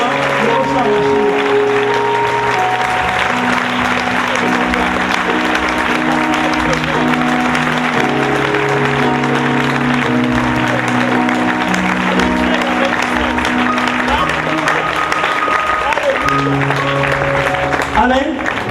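An audience applauds at a presentation event, a dense continuous clapping that stays loud and steady, with voices mixed into the crowd noise.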